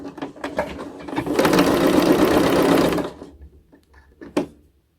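Sewing machine stitching a child's fabric face mask with a half-centimetre seam allowance and backstitch, running in a loud steady burr for about two seconds after scattered handling noises, then stopping, with a sharp click near the end.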